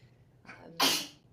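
A single sharp sneeze close by: a short breathy intake followed by an explosive burst, then quiet.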